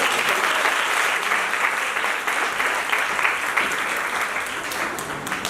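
Audience applause at an environmental awareness seminar, continuous dense clapping from a crowd, steady and fairly loud for the whole stretch.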